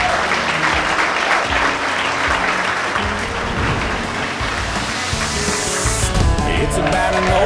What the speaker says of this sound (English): So let's give another big round of applause to Laura and Mike.